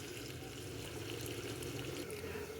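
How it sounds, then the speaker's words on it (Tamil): Steady pouring water as cooking water is drained from horse gram lentils, running continuously, a dense wash of liquid noise draining without pause. "கொள்ளு தண்ணி ஃபுல்லாக வடித்து எடுத்துக்கலாம்"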